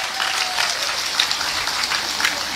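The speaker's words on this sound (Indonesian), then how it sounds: "Tepuk tangan untuk Anda." An audience at a religious talk in Kebonsari, Probolinggo, claps steadily, a dense burst of applause from a crowd lasting a couple of seconds at even loudness.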